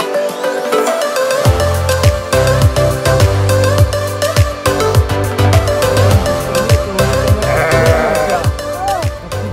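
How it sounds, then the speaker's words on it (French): Sheep bleating loudly and repeatedly at close range on a family farm, a run of wavering, overlapping bleats filling the whole stretch with barely a pause. "Tu parles avec le mouton, Titi?"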